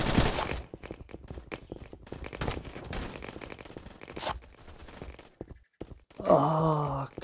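Video-game gunfire in a Battlefield 2042 gun-game match, scattered sharp shots and short bursts amid other game noise, with a groaning, wailing voice near the end.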